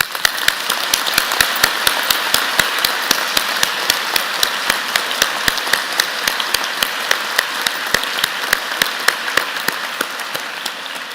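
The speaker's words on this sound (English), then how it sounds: "round of applause." A convocation audience in a large hall gives a vigorous round of applause, dense steady clapping from many hands that holds evenly for about eleven seconds with no talk.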